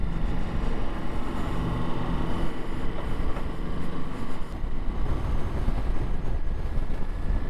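Wind blows hard at Lake Mead, a constant gusty roar buffeting the microphone with low rumbling throughout and no voices.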